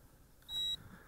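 A Visuo Zen K1 drone gives a single short electronic beep for compass calibration, brief and clear against a quiet background.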